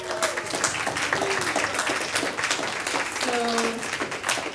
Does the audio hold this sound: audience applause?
yes